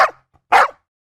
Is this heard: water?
no